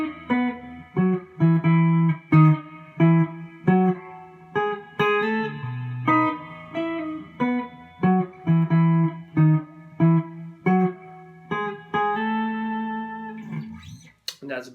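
Electric guitar plays a song intro, a bouncy repeating riff of plucked notes with half-step slides, steady rhythm, close and clear, alone without talk, ending on a brief strum.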